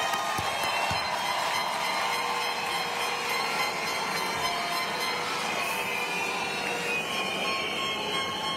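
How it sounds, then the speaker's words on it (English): Sustained, dense applause from the audience at a university commencement ceremony for the graduates' families, loud and steady throughout with no gaps. "Can we give a round of applause,"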